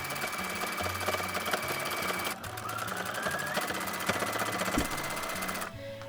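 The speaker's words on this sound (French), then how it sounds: "je vais à nouveau coudre à la machine toute la longueur" A sewing machine stitches a long seam through fabric in loud, steady mechanical runs, stopping briefly partway and halting near the end.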